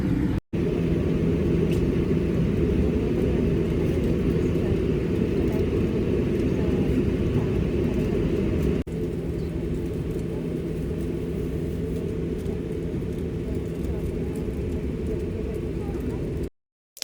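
A steady low engine rumble and drone fill the scene as an airplane taxis onto the runway, continuous and heavy with a brief dip midway.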